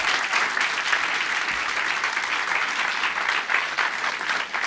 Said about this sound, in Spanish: Si va a aplaudir al Señor, apláudalo fuerte.